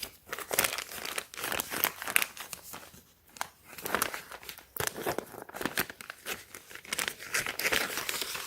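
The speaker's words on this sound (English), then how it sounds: "So let's go ahead and cut this open." Plastic shipping package holding a shoulder bag being cut open, a steady stream of loud, close crinkling and crackling rustles with short tearing bursts, no talk.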